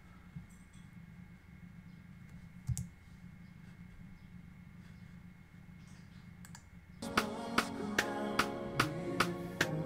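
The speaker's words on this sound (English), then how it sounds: "And just type the name." Computer keyboard typing, with a series of sharp, regular key clicks in the last few seconds over a quiet background hum.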